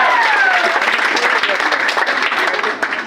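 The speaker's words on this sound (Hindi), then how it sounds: "एक बार जोरदार ताली" Loud applause from the audience at a direct-selling seminar speech, a full burst of clapping with a few cheers riding on top, steady and close before easing slightly at the end.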